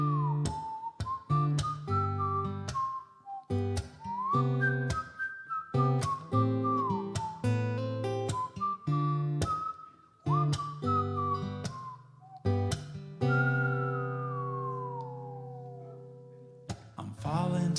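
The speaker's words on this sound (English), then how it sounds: "it starts with a whistle" A person whistles a melodic song intro in a loft living room, clear and close, with sustained notes, slides and short pauses between phrases.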